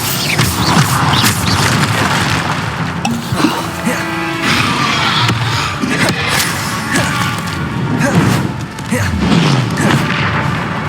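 Repeated Bombarda spell blasts in Hogwarts Legacy boom and crash amid dense combat effects, loud and steady across the stretch with little speech.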